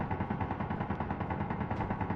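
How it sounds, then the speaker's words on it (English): In Crashed on Mars, a settlement's gun turret keeps up rapid, relentless fire, a thick unbroken rattling burst of even volume throughout with no voices. "Man, that thing is still shooting at me."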